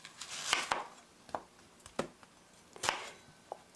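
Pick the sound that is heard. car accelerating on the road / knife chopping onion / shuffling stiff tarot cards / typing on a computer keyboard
knife chopping onion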